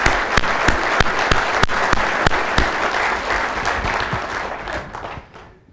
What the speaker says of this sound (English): I'd like to give both Ruth and Barry another round of applause for their fine message